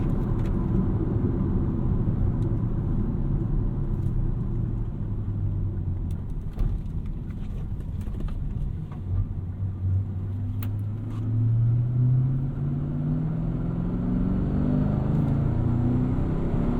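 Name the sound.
V8 car engine rumble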